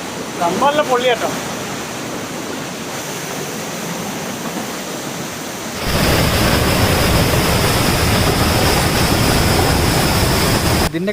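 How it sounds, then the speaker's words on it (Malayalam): Anakkampoyil waterfall in Kozhikode, Kerala, about three storeys high, a steady broadband roar of falling water that grows suddenly louder and closer partway through, with a brief voice near the start. "ഇതാണ് അവർ നേരത്തെ പറഞ്ഞ ഒരു 3 നില ബിൽഡിങ്ങിൻ്റെ ഒക്കെ താഴ്ച ഉള്ള ആ വെള്ളച്ചാട്ടം"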